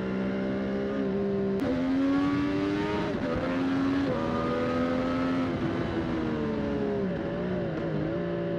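Triumph Street Triple 765 RS motorcycle accelerating hard on a race track, its engine note climbing through several gears with brief dips at each shift, loud and close throughout.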